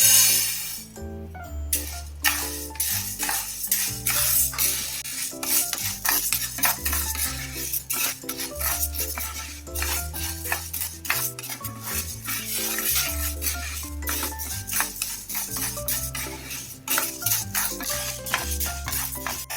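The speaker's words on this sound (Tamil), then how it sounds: "அதுல இந்த உளுத்தம் பருப்பை சேர்த்து மீடியம் ஃப்ளேம்ல வச்சு நல்லா ப்ரௌன் கலர் வர வரைக்கும் வறுத்து எடுத்துக்க போறோம்" A spoon scrapes and clinks against a pan as urad dal roasts over a medium flame, a busy and continuous run of stirring clatter held close.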